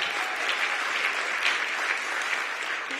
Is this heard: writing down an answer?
no